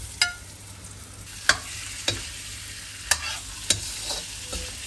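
Chicken goes into a pan where onion, garlic, cumin and coriander powder are frying for palak chicken, giving a soft steady sizzle punctuated by a few sharp spoon clacks against the pan, with no talking.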